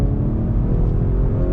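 A 2020 Honda Accord Touring 2.0T accelerating in manual mode, with paddle-shifted gear changes. It gives a steady, close engine drone and rumble with no clear break in the short stretch.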